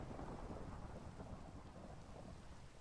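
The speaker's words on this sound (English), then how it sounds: "So that was a thunderstorm." Thunderstorm in Minecraft: steady broadband rain hiss with a low rumbling roll of thunder running throughout, loud and continuous with no speech.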